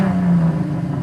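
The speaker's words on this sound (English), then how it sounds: "He found a minivan that'll do a burnout." A burgundy minivan revs hard while doing a burnout, a short close engine drone with a steady mid-pitched tone.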